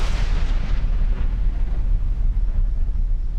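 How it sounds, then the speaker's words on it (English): A volcano erupting in Japan gives a continuous deep, heavy rumble like distant thunder, loud and unbroken throughout, with wind buffeting the microphone. "It sounds like a thunderstorm in the distance."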